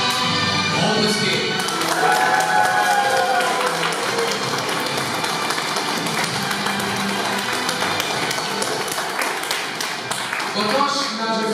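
Applause from a crowd at a school ribbon-cutting ceremony opening a school TV channel, a steady wash of clapping lasting throughout, with voices and other sounds mixed in.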